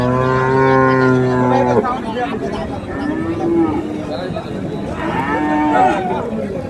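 Cattle at a Chittagong farm selling animals for Eid sacrifice, one long close moo followed by further lowing calls, with people talking in the background.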